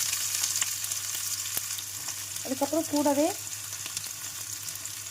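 Chopped onion sautés in hot oil in a pan for a bitter gourd stir-fry, a steady soft sizzle running throughout while someone speaks briefly.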